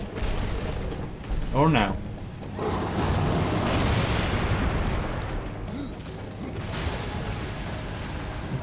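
A bomb explodes in the video game Darksiders 2 as a broad, rumbling blast that swells and fades over a couple of seconds, mixed with game effects while someone talks before and after it.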